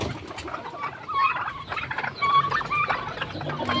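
Hungry chickens and turkeys on a small farm, turkeys gobbling in repeated bursts with squawks and clucks, close and lively, layered over each other with no talking.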